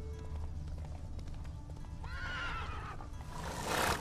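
Roach the horse trots through The Witcher 3, steady hoof clip-clops running the whole way, a whinny rising partway through and a louder rushing burst near the end.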